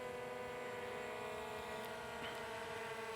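Small camera drone hovering and rotating in place outdoors, a steady even whine of propellers throughout, fairly distant and constant in level.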